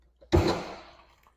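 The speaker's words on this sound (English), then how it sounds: "I'm going to open up the hood" The hood of a 2011 Ford Mustang GT, a Coyote 5.0L car, gives a single close, sharp thunk as it opens, and the sound fades out quickly in a quiet space.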